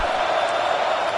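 A football stadium crowd during a field goal attempt makes a dense, steady roar, loud and unbroken throughout the short moment.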